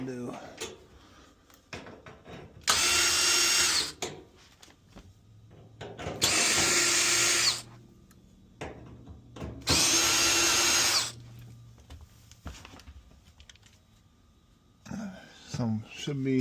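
On an LG dryer, a power drill spins out the front screws in three loud sustained bursts spaced a few seconds apart, with softer clunks and handling noise between them.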